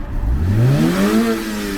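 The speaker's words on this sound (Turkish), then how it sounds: "Arabanın motoru da çok güzel. Şöyle bir gaz ver." A car engine is revved once, close and loud, its pitch climbing smoothly as the throttle opens and then holding at a steady higher drone.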